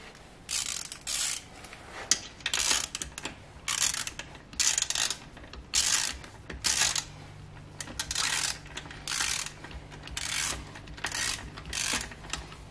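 A ratchet tightens the bolts on a ZF5 transmission case during reassembly, with short bursts of rapid clicking repeated in a regular rhythm, separated by brief pauses, close by and fairly loud.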